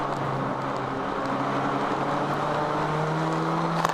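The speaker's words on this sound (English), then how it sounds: "And just listening to the engine, it sounds like it's doing all right." A race car engine in a ChampCar 14-hour endurance race at Charlotte runs steadily with a loud, constant droning hum, no talking over it.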